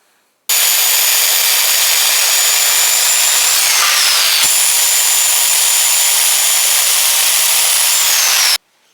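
A power saw rips through a pallet wood board in one continuous loud cut lasting about eight seconds, a harsh steady whine with a brief dip in pitch midway, beginning and ending abruptly.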